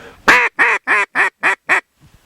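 A hand-blown duck call sounds six sharp, evenly spaced quacks in a quick descending cadence, loud and close, then cuts to near silence with a couple of faint clicks.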